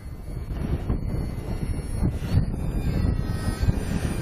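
A model Po-2 biplane flying in gusty wind, its small engine a faint steady drone buried under heavy, continuous wind buffeting on the microphone.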